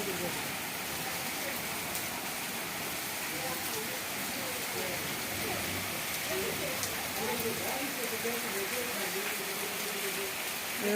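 Heavy rain pours down steadily around a home during an afternoon downpour, a dense continuous hiss with water pattering onto the floor, and a rooster sheltering nearby while people speak over it.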